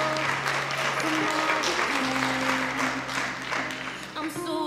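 Sustained applause from an audience at a Little/Mini Miss Spanish Fork pageant honoring the mini contestants, dense steady clapping throughout with a held musical tone underneath.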